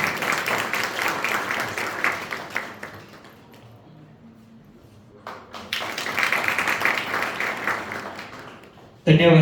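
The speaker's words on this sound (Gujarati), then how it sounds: "તાળીઓથી વધાવી લઈશું." An audience at a college pitch competition claps to welcome a guest speaker being honoured, with dense applause that fades into a quiet stretch, then swells again before a sudden loud burst at the end.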